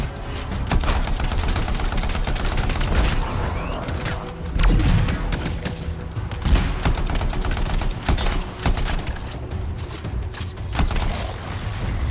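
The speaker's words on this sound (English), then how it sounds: "I have a rocket barrage" Rocket barrage fire in the video game Anthem: a rapid, sustained volley of loud explosive bursts and cracks, overlapping and continuous, with heavier impacts punctuating the stream.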